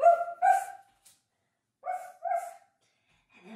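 Children imitate dog barks during a kids' yoga down dog pose: two pairs of short, voiced woofs separated by a pause, then a faint sound at the end.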